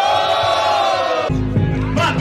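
A rap battle crowd shouting, with loud, dense massed yelling and whoops that surge abruptly partway through after a sustained tonal passage.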